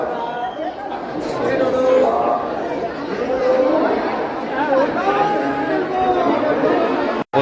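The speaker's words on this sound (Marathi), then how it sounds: "बघा कशी गर्दी आहे फुल गर्दी आहे" A dense crowd of devotees at Jejuri temple fills the space with continuous overlapping chatter, a close, loud babble of many voices with no pause.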